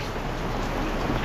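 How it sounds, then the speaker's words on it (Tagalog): Heavy rain falls as a steady, even hiss of dense downpour, constant and moderately quiet, with no voices. "Malakas pa rin ang ating ulan"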